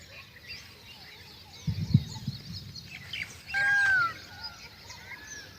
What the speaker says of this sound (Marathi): पक्ष्यांचं चिवचिवणं